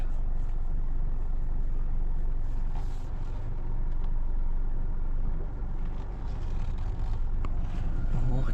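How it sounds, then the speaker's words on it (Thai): Cars and engines idle and crawl in a traffic jam on a road in Vientiane, a continuous low rumble close around, with a person speaking over it. "โอ้รถติด"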